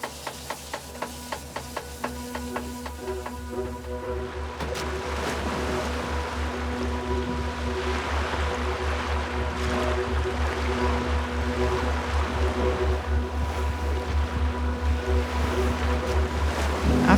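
Sailboat under way in open sea off the northwest coast of Svalbard, steady hull and water rush with wind, low engine-like drone and rhythmic creaks and knocks early on, growing fuller and louder over time, no voices.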